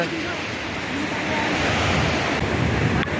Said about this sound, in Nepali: यो चाहिँ अब हाम्रो माथितिरबाट आएको मुस्ताङको काली खोला हो